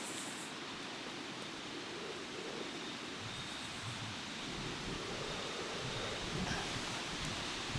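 A camp stove burns under a pot of water outdoors in the woods, giving a steady, close roaring hiss of flame that holds an even level throughout with no talking.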